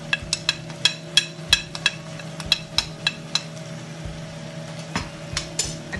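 Tomato masala with turmeric and red chili frying in a pan over medium flame, a steady low sizzle with regular sharp clinks of a spoon against the pan in quick succession.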